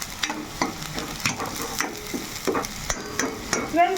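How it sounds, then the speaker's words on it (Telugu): Onion paste frying in oil for masala bitter gourd, a close sizzle broken by repeated scraping and tapping as a spoon stirs the pan in an uneven rhythm, no voices. "ఇప్పుడైతే మనం చక్కగా ఉల్లిపాయ పేస్ట్ మొత్తం బాగా వేగిపోవాలన్నమాట"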